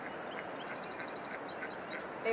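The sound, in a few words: ducks quacking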